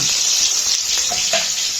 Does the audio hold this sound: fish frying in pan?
yes